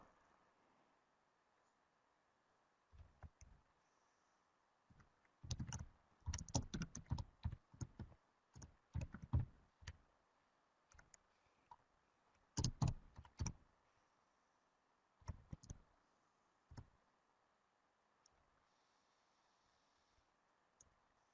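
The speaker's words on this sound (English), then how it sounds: "So there's a couple people typing." Several people type on computer keyboards during an online meeting, with irregular bursts of quick key clicks and pauses between them, fairly faint over a soft background hiss, with no talking.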